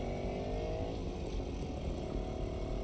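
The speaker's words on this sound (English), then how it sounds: "Is she on a motorcycle?" Motorcycle ride in the video game The Medium, a steady engine drone with low rumble and some clatter, continuous and fairly loud throughout.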